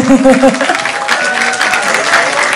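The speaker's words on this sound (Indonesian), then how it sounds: "ayo tepuk tangannya nih, rame loh" Applause from the audience at an Indonesian press conference for the horror film Petaka Gunung Gede, a steady dense wash of clapping with a voice briefly heard at the start.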